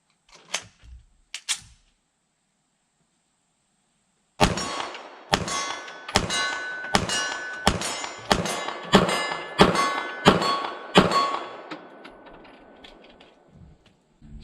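A Springfield Armory DS Prodigy comp 5-inch pistol fires at a 25-yard steel plate. After a few faint knocks and a pause, about ten sharp, loud shots come at a steady pace, each followed by a ringing metallic clang.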